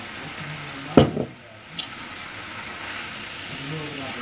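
Rice noodles for pad see ew frying in a hot pan make a soft sizzle with a sharp burst of clatter and hiss as they are tossed, then a quieter steady crackle, while someone talks faintly over it.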